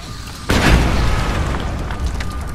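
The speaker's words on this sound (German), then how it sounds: "Perfekt, was für eine Explosion" A sudden loud boom bursts out in the Mad Max video game on PS4 and rolls into a sustained rumbling roar with crackling debris that slowly fades.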